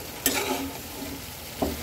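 Spice paste being stirred and fried with fish in a pan, a low steady sizzle with two sharp scraping knocks of the spoon against the pan, close and fairly quiet.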